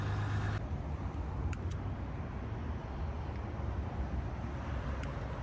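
A Jeep Gladiator with the 3.0 EcoDiesel engine runs loud just after a cold start, giving a steady, close, broadband roar with deep low rumble that continues unbroken throughout.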